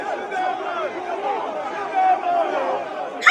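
Dense crowd chatter and overlapping voices at NDC party primaries in Nigeria, a steady hubbub of many people with a few louder shouts rising above the babble.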